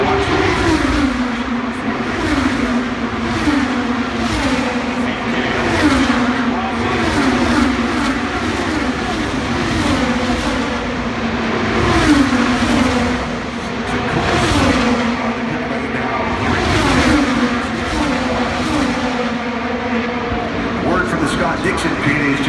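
IndyCar race cars lapping at the Indy 500, engines droning loudly in repeated passing swells under a commentator's continuous talk.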